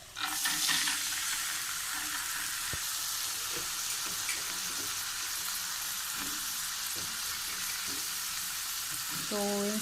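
Garlic and chili paste frying with turmeric and coriander powder gives a loud, continuous sizzle in a home kitchen pan, with occasional stirring clinks and scrapes over the hiss.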